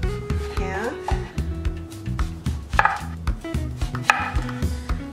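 Knife chopping through a Korean melon (chamoe) on a cutting board, a series of crisp, close thuds in an uneven rhythm.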